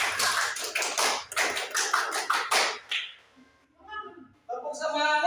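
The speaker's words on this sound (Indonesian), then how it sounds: "Tepuk pramuka." A group of women performs the rhythmic Indonesian scout clap, a fast series of sharp, close hand claps in a patterned beat, followed by a pause and then voices speaking.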